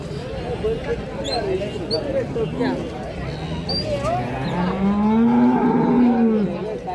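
A dairy cow at a cattle market in Chalisgaon gives a long, low, drawn-out moo that swells near the end, with other farm noise and a voice in the background.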